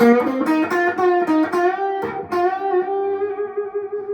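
Sustained notes from a brand-new Collings acoustic guitar ring with a slight metallic buzz in the strings, played up close and fading slowly at the end.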